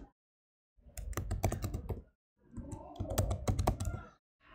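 Two bursts of rapid keystrokes on a computer keyboard, entering a plugin search, close and clear with a short pause between runs.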